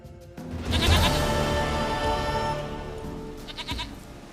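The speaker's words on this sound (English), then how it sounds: "Goat of mine, dearest," A goat bleats in The Witcher 3, one long wavering cry that lasts several seconds and ends in a shorter bleat, close and loud, with no talk over it.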